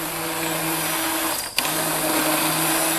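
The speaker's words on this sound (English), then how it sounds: "we're going to use what is called an immersion blender" A handheld immersion blender purees sweet potato soup with a steady high whirring drone, briefly pausing and restarting midway before running on evenly.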